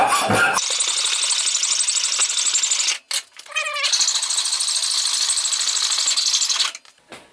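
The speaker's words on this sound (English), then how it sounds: "Grab my hacksaw here." A hacksaw cuts through a protruding stub during benchtop gluing work. The close, harsh rasping of the strokes runs steadily, with a brief pause midway before a final stretch of cutting.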